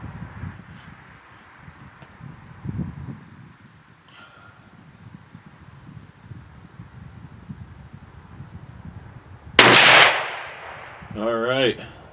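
A Marlin .22 Magnum rifle firing a single 40-grain round outdoors at a 50-yard range gives one sharp, loud crack over steady wind and rustling, followed a moment later by a short warbling tone.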